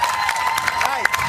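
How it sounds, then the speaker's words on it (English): Studio audience applauding and cheering on a morning TV show, a brief dense wash of clapping and crowd noise with a voice over it. "Give yourselves a round of applause"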